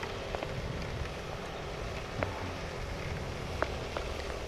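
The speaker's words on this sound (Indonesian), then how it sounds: "ini hujannya mantep, gerimis dikit-dikit ya, namanya gerimis ya, dikit tapi banyak" Light drizzle falling in soft, steady rain on a mountain route near Tembarak, Temanggung, a continuous fine patter with a few faint drop ticks, moderately quiet and with no talking.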